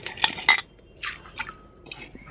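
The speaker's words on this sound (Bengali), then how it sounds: "এইবার ডালটা দিয়ে দিচ্ছি" Washed small-grained lentils go into a cooking pot: a few bright metallic clinks and wet drips and splashes, fairly quiet and close, with no talking.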